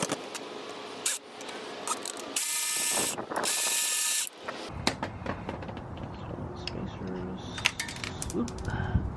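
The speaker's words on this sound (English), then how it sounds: "next we're gonna take the caliper bolts out" A ratchet works loose the bolts on a motorcycle front brake caliper, rapid clicking bursts broken by pauses and metallic handling noises, close up.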